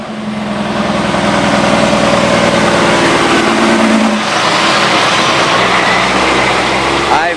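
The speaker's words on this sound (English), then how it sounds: "That's where this truck goes by." A truck drives past on a residential street, its loud engine rumble and tire roar building and holding steady close by before shifting as it passes.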